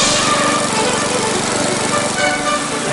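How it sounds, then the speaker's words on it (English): A snow blower clearing a driveway after a blizzard, running in gear with the auger engaged; a loud, close, continuous engine drone with a rough, pulsing churn for the full few seconds. "I pointed it, put it in gear, turned the auger on, and then I was ready to go."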